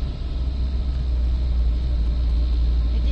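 A motorized tricycle engine strains in second gear, a continuous low rumbling drone that stays steady and close with no break, alone without talk.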